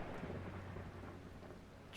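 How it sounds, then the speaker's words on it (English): Thunder rumbles low and heavy through steady rainfall during a stormy scene in the video game Strange Horticulture, a continuous deep roll under the soft patter. "Oh, lightning."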